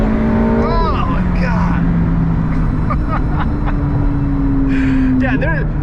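A 1000 hp McLaren 720S supercar roars under full-throttle acceleration, a loud continuous engine drone with a rising pitch shift, while people talk over it.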